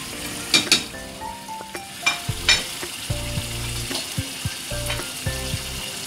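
Mutton karahi sizzles and fries in a pan as red chili, turmeric and chaat masala go in, with steady hissing under scattered clinks and scrapes of a spoon against the metal; no one talks.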